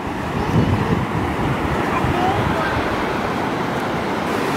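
Wind and ocean surf at a beach roar in a steady, broad rush, close and loud with gusting wind on the microphone, while people talk faintly underneath.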